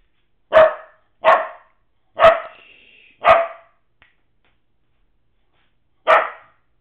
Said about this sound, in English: Ginger, stop barking